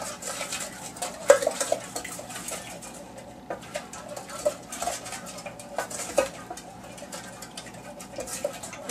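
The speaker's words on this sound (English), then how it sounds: "we're going to take our mixing spoon and we're just going to mix everything together" A mixing spoon stirs a cucumber salad with sour cream dressing in a bowl, giving soft wet patter and scattered light clinks of the spoon against the bowl, steady and close.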